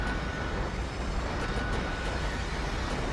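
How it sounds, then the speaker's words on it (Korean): A train runs in the video game GTA5, giving a loud, steady rumbling roar with continuous rail noise that fills the whole moment without a break. "기차가 달리고 있어요."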